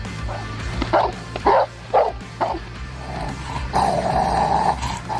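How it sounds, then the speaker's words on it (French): A Rottweiler gives several deep, gruff barks in quick succession, followed by a sustained low growl, close and loud. "C'est ainsi qu'un Rottweiler réagit s'il sent que son maître est en danger."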